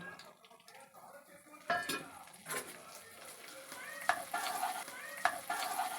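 Ground garam masala and coriander powder stirred in hot oil in a pan for a quick chicken fry, giving a soft steady sizzle broken by several spoon scrapes and clinks against the pot, with no talking.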